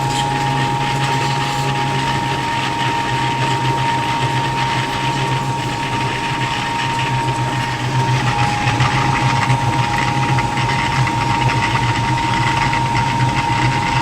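A poultry feed pellet mill with a 7.5 kW motor and a 200 die making 3 mm pellets runs under load. It gives a loud, unbroken mechanical drone with a steady hum and a grinding rattle, with no talk.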